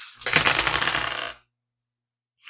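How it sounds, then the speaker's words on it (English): Several dice tumble and clatter together across a hard surface during a tabletop game, a brief, loud burst of rattling lasting about a second before silence. "you can roll all your dice at the same time and take the one with the least"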